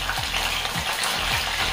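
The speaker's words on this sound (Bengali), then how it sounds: "এখন এই তেলে আমি পটলগুলো ভেজে নিচ্ছি।" Pieces of pointed gourd (parwal) fry in hot oil with a steady, dense sizzle and faint periodic scrapes of stirring, no voices.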